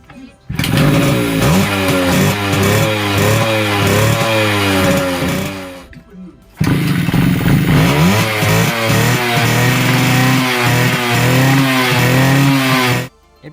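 A Suzuki Max100 motorcycle engine runs loud and steady with rising and falling revs, cuts out briefly near the middle, then restarts and keeps running close by.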